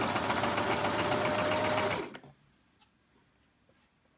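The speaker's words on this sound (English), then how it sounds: "So we're going to run our piping down the right hand side of the grooves" Sewing machine with a piping foot stitching piping onto fabric: a loud, steady rapid whir for about two seconds that stops abruptly, followed by quiet room tone and a small click.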